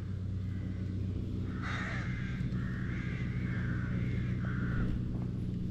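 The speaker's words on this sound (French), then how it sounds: "je suis en dessous d'une corbotière donc il y a un peu de bruit" Crows caw repeatedly from a rookery overhead, several harsh, drawn-out calls in loose succession over a steady low outdoor rumble by the water while pike fishing with lures.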